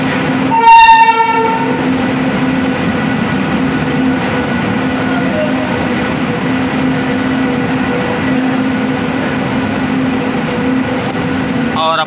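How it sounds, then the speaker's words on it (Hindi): The Bahraich–Varanasi Intercity Express arrives at Prayagpur station with a loud horn blast near the start, then a steady rumble and clatter of wagons rolling past close by, with crowd noise underneath. "अपनी ट्रेन प्रयागपुर में अराइव होते हुए आप लोग देख सकते हैं"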